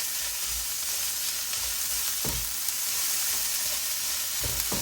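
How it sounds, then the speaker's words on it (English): Soya chunks frying in a pan with ginger, garlic and chili paste for a Fiji-style curry, a steady close sizzle throughout with a few brief stirring scrapes and no speech. "Now I'll go ahead and add in my ginger, garlic and chili paste and cook this off."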